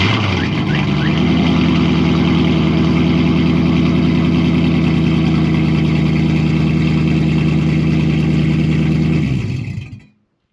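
A straight-piped 2004 Mustang drift car idles loud and close on a cold start, a steady burbling V8-style rumble with a lumpy pulse that holds for about nine seconds before cutting off abruptly.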